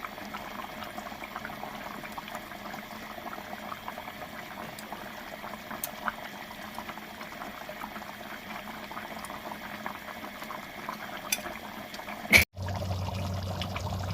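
Mutton simmers in its own juices in a karahi, a soft, steady bubbling and sizzle that continues throughout, broken near the end by a brief sharp clatter.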